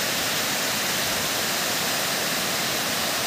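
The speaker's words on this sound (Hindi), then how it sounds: "तो दोस्तों पानी का आवाज़ भी बहुत ही ज़्यादा है" Loud, dense rushing water roars continuously at a fishing spot, a steady broadband wash like a waterfall or fast stream with no other sounds breaking through.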